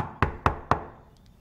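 Three evenly spaced, firm knocks on a door, close and crisp, followed by quiet.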